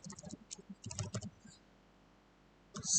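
Quick bursts of computer keyboard typing, several short runs of clicks broken by a quiet pause, with a voice briefly present.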